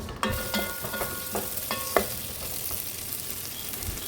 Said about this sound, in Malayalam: അരിഞ്ഞു വെച്ച തക്കാളിയും ഇടുക ഇത് രണ്ട് തക്കാളി ഉണ്ടാകും ചതച്ചു വെച്ച ഇഞ്ചിയും വെളുത്തുള്ളിയും കൂടി ഇട്ട് ഒന്ന് വഴറ്റി